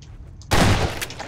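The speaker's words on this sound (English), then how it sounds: "Break some planks." A sudden loud crack and splintering crash from wooden planks being smashed in Half-Life 2, a single close impact that tails off into rattling debris.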